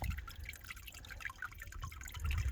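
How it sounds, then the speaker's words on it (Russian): Water trickles and drips beneath winter ice at a Hereford cattle farm, running through a small cut opening and on under the ice; faint, steady patter with irregular drops. "Вода льется постоянно всю зиму и перетекает через такое вот окошечко, которое мы сделали."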